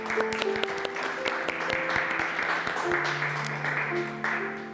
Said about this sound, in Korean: 우리 축복하면서 흔히 박수로 축복했으면 좋겠습니다.